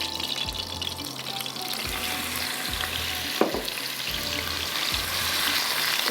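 Meat sizzling and frying in a hot pan, a steady close hiss with a few stirring scrapes and clanks over it, no voices.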